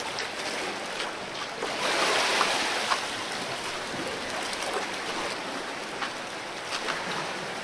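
Sea waves surging and crashing against a split mountain along the coast, a steady wash of surf with a swell of louder water partway through, heard alone.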